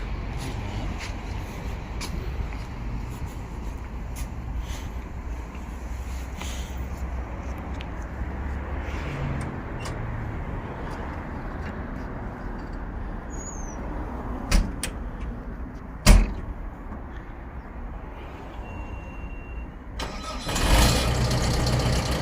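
Manitou MT-X 732 telehandler diesel engine running with a steady mid-pitched rumble, a few sharp clunks along the way and a brief rise in revs near the end, no talk.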